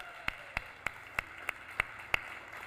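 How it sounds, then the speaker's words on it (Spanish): A single person's hand claps during a church sermon honoring a mother: about seven sharp, evenly spaced claps, fairly faint and alone, with no talking. "Un fuerte aplauso a esa mamá."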